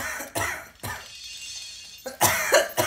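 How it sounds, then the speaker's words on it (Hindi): Someone coughs in a few short, harsh bursts, a brief quiet stretch between, then a couple more rough coughs close by. "अरे आपकी खांसी तो बढ़ती ही जा रही है,"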